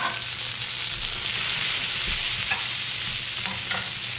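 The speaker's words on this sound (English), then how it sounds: "We'll go in with almonds, capers. Let those kind of fry up a little bit." Almonds and capers fry in toasty brown butter in a pan, giving a loud, continuous close-up sizzle with occasional soft stirring taps and no voices.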